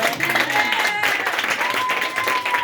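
Audience applause during a French-language Christian sermon, a dense, steady wash of clapping at moderate loudness that runs through the whole stretch, with a faint voice mixed in.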